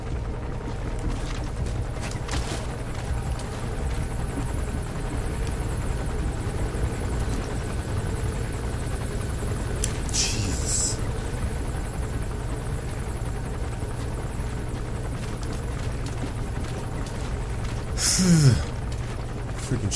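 Helicopter in the video game Metal Gear Solid V, a steady low rotor drone running continuously throughout, with a brief louder mechanical swell near the end.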